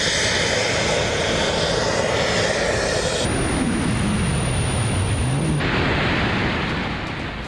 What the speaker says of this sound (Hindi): ये भाई जो है वो सूट पहनकर उड़ रहा है।